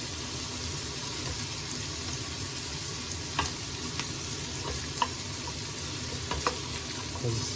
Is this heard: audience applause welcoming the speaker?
no